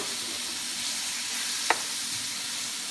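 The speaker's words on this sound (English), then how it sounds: "Now let's add our pork. Let's saute this for" Pork sizzles steadily in a pan with shrimp paste, a constant close hiss of frying with a single brief clink of a utensil midway.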